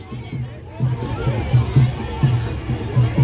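Departing crowd on a riverbank after the Chhath Puja festival in Bihar, a steady low hubbub of many voices and movement with rhythmic low thumps, moderately loud and continuous throughout.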